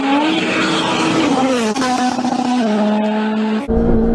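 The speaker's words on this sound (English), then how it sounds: "This is called rally driving." A rally car engine roars loudly and close, holding a steady high drone that drops in pitch at each gear change as the car drives over bumps, with no talking.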